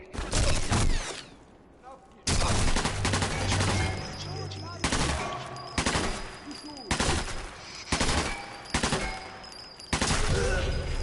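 A Thompson submachine gun fires in Sniper Elite 4 in loud, close bursts of rapid gunfire that repeat in short volleys with brief gaps, alongside mechanical clatter and occasional talk.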